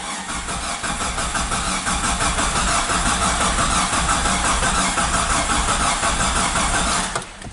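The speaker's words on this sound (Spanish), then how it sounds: "Vamos a dar arranque." A 1998–2001 Jeep Cherokee XJ with a failing fuel pump, its starter cranking the engine steadily and without a break for about seven seconds. The engine never catches, and the cranking stops abruptly at the end, with no talking.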